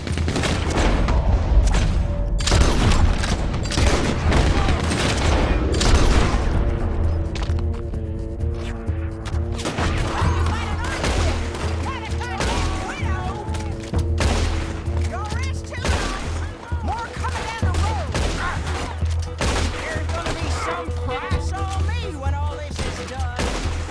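A Gatling gun in Red Dead Redemption 2 fires rapid bursts of shots amid loud gunfire and impacts, busy and dense, with character voices talking over the shooting.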